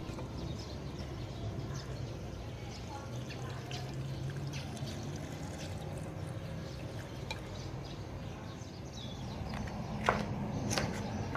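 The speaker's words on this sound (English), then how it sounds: "Pour the aqua regia acid into the raw ingredients." Aqua regia acid is poured into raw ingredients for dissolving gold, producing a continuous close watery pouring and trickling with occasional small clinks near the end.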